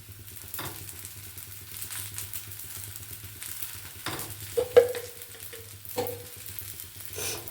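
Ghee sizzling as it is poured over a fenugreek (methi) dosa in a hot pan, a steady close frying hiss with a few clinks and scrapes of a utensil, no talking.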